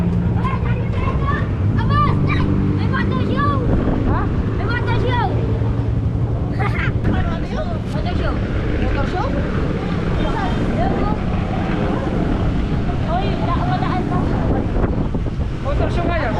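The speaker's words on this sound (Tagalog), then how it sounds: "Pinapapagod pa ng motor eh." A boat motor runs hard on choppy water, with a constant rough drone, sloshing waves and wind rushing across the microphone, while several people talk over it throughout.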